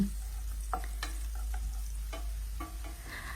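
Coarsely crushed garlic fries in olive oil with a steady close sizzle, broken by scraping stirs and light taps from a utensil against the pan.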